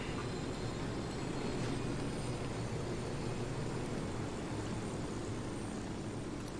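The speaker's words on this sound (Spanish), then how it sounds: "Un helicóptero enemigo." Enemy helicopter in a video game, a steady droning rotor and engine roar holding constant and fairly faint throughout, with no speech.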